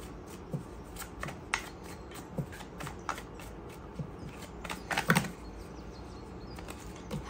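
A deck of tarot cards is shuffled close up, with quick papery riffles and flicks in irregular bursts and a sharper flurry about two-thirds through, over a quiet background and no speech.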